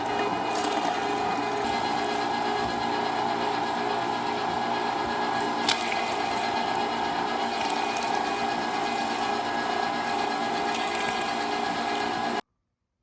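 A meat grinder runs steadily through a coarse cut of maple blueberry sausage meat, a continuous close mechanical whir with an even churning drone and one brief sharp click midway, no talking.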